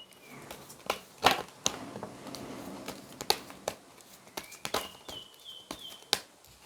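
Tarot cards being shuffled by hand give a run of soft papery flicks and crisp snapping clicks in an irregular rhythm, close and fairly quiet, with no talking.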